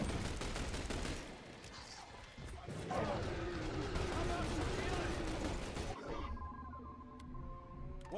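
Gunfire in the video game The Bureau: XCOM Declassified: dense, continuous shooting and crashing battle noise fill the clip, with shouted voices over the fighting.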